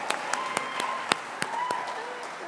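Scattered, modest applause from a graduation ceremony audience at Greenwich, a few distinct claps standing out over a soft, steady patter that carries on throughout.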